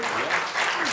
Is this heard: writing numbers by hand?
no